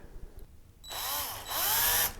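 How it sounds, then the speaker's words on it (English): A power drill whines up to speed twice in quick succession, loud and close, drilling through a guitar fretboard at a fret slot, with a brief dip between bursts after a quiet start. "I'm just going to drill through"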